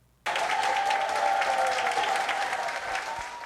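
A medical team applauds as recovering patients are discharged from a hospital, steady dense clapping that starts abruptly and carries on loud and continuous throughout, with a faint tone running beneath.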